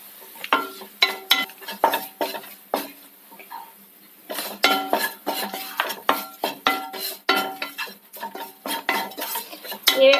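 Chili powder and garam masala being sautéed in a pan over a low flame, with a spoon clinking and scraping against the metal in repeated close strokes, a brief pause midway, then steady stirring again.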